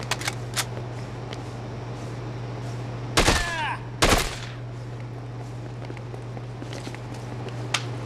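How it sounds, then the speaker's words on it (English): Gunfire in the Dead Rising 2 video game: a few light, scattered shots, then two louder clustered bursts in the middle, over a steady low game hum. "Might as well use up the rest of this gun's ammo."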